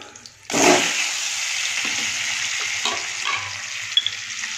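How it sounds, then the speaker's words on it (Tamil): Boiled eggs frying in masala for a Tamil-style egg gravy produce a loud, close sizzle that bursts in suddenly and then holds steady, with a few scraping stirs and no talking. "முட்டைகளை வந்து இந்தளவு வறுத்துக்கோங்க"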